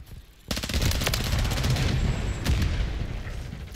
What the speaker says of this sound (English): somebody shoots one and it kills Grandpa.